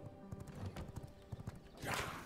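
A horse gallops in the V Rising video game, its hooves making a quick clip-clop rhythm at moderate volume. A brief neigh-like rush of sound comes near the end.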